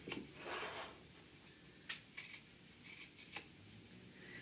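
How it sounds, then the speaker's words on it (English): Fabric squares for a simple handbag are cut with scissors, giving a few quiet, separate snips and rustles with short gaps between them, close by and with no talking. "we're just simply going to cut them out"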